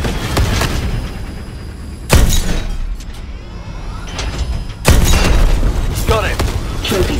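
A tank cannon fires in the Call of Duty Advanced Warfare campaign, with two heavy booms a few seconds apart over a constant rumble of engine and battle noise, while voices talk throughout.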